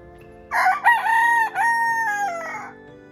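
A rooster crows once, a loud, close, drawn-out cock-a-doodle-doo lasting about two and a half seconds with a falling tail, at a temple with hydrangea gardens.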